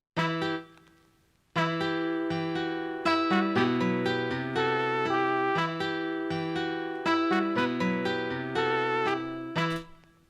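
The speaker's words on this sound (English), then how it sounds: "And this is just a VHS effect." A gentle melodic keyboard phrase with sustained chords and plucked notes, given a worn, lo-fi videotape character, playing alone without voices.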